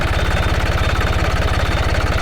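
A modified turbocharged small tractor engine runs close and loud, its rapid, steady low knocking pulses repeating evenly throughout with no voices.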